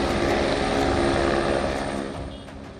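An army rescue helicopter flies over the Nepal flood zone created by a glacier break, its rotor and engine making a loud, steady broadband roar with rhythmic blade chop that fades slightly toward the end.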